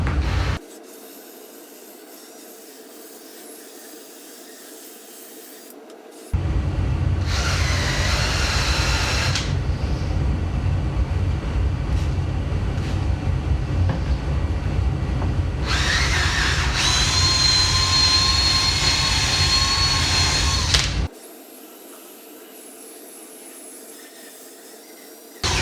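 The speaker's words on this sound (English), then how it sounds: "throw the medium-sized drill brush on here, and we're gonna just clean this mat." A drill-driven brush scrubs a car floor mat in two long bursts, a loud whirring, rubbing grind that stops abruptly between runs, with quieter background hum in the gaps.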